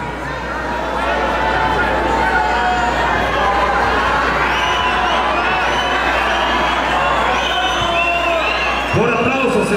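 A large audience in a loud, crowded venue cheers, shouts and whoops continuously in a dense roar, voting by applause for a tournament finalist.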